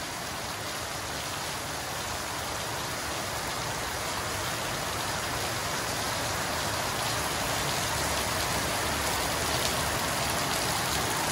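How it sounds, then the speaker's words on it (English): Heavy, steady tropical rain pours down without letup in Darwin, a dense hiss of countless drops striking surfaces nearby, with no voices. "I'm certainly enjoying this break from the heat with this beautiful downpour"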